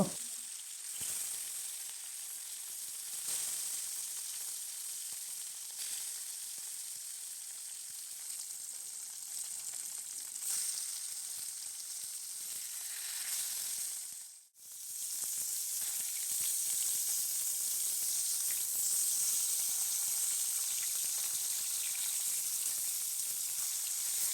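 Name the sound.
katla fish pieces frying in hot oil in a wok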